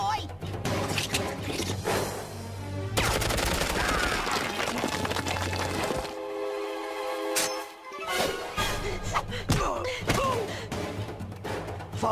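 Gunfire in a Disney Tarzan cartoon: bursts of shots and heavy thuds mixed with loud orchestral music, a brief quieter gap midway, then more impacts as a voice calls out.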